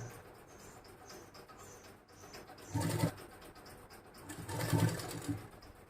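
A sewing machine stitches lace onto the hem of a salwar, running in two louder bursts over a quieter steady hum, close and fairly faint.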